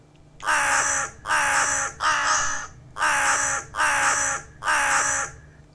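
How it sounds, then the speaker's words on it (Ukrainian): A crow caws six times in a steady, evenly spaced rhythm, loud and close, with no other sounds. "Це у нас ворона."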